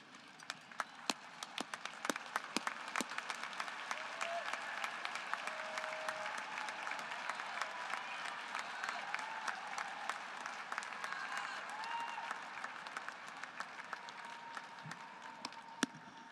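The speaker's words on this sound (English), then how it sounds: "turn and applaud the family, friends, and loved ones who have supported you" A large convocation crowd of graduates applauds their families and loved ones, a dense, steady wash of clapping that holds evenly for the whole stretch, with a few sharper claps standing out near the start.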